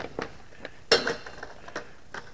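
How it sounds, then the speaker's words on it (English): An old frying pan clinks and rattles on a hot plate with a few sparse metallic taps and one sharper clatter near the middle, over a steady low background hiss. "you put the frying pan, old frying pan on a hot plate"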